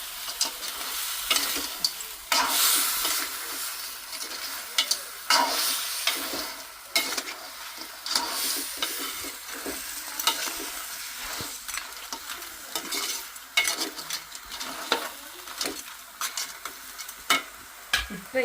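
Ingredients with turmeric powder stirred and fried in a pan for a home lunch, a continuous close sizzle with constant scraping and clattering strokes of the spoon, busy and uneven.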